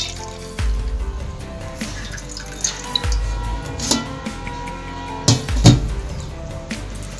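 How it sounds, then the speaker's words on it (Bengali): A cotton cloth is rinsed in water, with drips, splashes and sloshing close by, along with a few low thuds and handling knocks, and no talk. "এখানে আমি একটা সুতির কাপড় নিয়ে নিয়েছি আর জলে ভালো করে আমি ধুয়ে নিচ্ছি।"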